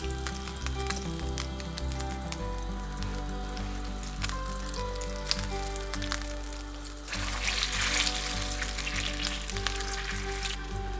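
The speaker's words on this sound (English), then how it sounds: "frying pan because we're gonna saute, stir the mixture for a while, and first melt the butter and kaymak" Butter and kaymak melting and sautéing in a white frying pan give a continuous close sizzle, growing louder and crackly in the last few seconds, over a steady low hum, no talk.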